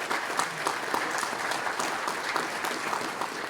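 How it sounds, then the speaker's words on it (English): An audience claps steadily through a round of applause at a Blade Runner Origins presentation, a dense, even patter of many hands at close range with no voices breaking through. "let's give it a round of applause."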